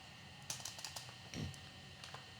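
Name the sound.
typing text on a computer keyboard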